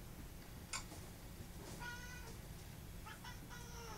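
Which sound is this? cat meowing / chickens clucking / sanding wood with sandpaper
cat meowing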